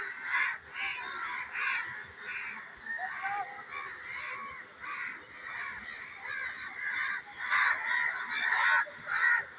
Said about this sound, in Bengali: ছাদে একদম কাক এসে ভরে যাচ্ছে।